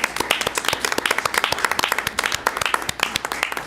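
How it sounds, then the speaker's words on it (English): At a board of education meeting, a room full of people applauds the board members with brisk, crisp, dense clapping that carries on steadily for several seconds at close range. "let's give our board members a lovely round of applause"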